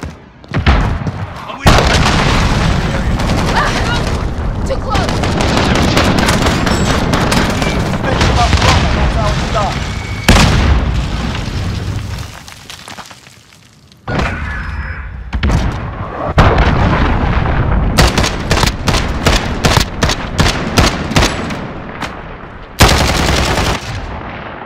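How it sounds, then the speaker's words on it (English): Rapid automatic gunfire and heavy booming explosions from a Modern Warfare Team Deathmatch match with a FAMAS rifle, sustained bursts broken by short pauses, loud and close, with voices calling out over the action. "Enemy cruise missile incoming!"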